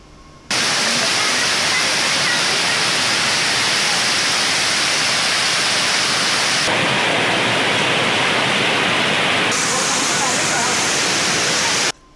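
Heavy rain pours down in Junagadh, enough to flood several spots, making a loud, unbroken broadband rush that holds steady from start to finish.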